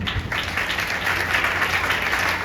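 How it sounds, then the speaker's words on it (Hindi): A crowd at a youth motivational camp claps continuously, giving an even, sustained patter of many hands at moderate loudness with no pauses. "एक बात ताली हो जाएगी प्रभु के लिए।"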